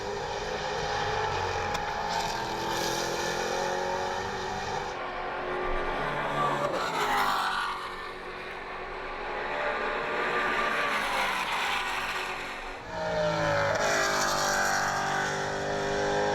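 Maserati Trofeo race cars at Road America in 2015, engines roaring loudly and steadily as cars pass, with the pitch swelling and dipping between passes.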